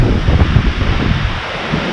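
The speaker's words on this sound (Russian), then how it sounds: "Вот такие порывы ветра." Blustery, squally wind on a cold snowy day in early May buffets the microphone in uneven surges, with rustling and rumbling gusts rising and falling throughout.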